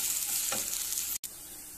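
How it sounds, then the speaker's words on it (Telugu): Spices and green chilies being stirred into palak paneer in a pan, a steady close sizzle with scraping, cut by a brief dropout near the end. "అదిగోండి ధనియాల పొడి కారం పసుపు పచ్చిమిర్చి అన్నీ వేసేసి కలిపెట్టుకోవాలి ఇప్పుడు"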